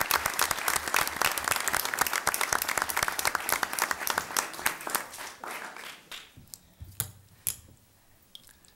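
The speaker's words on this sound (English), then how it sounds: "I would ask the audience to please give a round of applause for our Boy Scouts" An audience at a village board of trustees meeting in Arlington Heights, Illinois claps for Boy Scouts, a dense burst of many hands that thins out after about six seconds into a few scattered claps and room noise.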